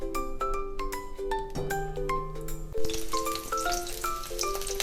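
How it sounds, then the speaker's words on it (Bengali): Thick-chopped onions fry in refined oil in a wok, with a soft sizzle running throughout beneath bright ringing metallic clinks and tapping, probably from utensils against the pan. "পেঁয়াজগুলো কুচিয়ে রেখেছিলাম সেগুলো আমি এবার তেলের মধ্যে দিয়ে দিচ্ছি"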